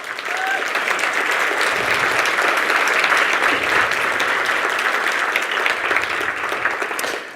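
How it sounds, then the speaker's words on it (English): An audience at a student theater performance gives a round of applause, dense continuous clapping filling the room evenly from start to finish. "can we give Jack and the staff who put this event together another round of applause?"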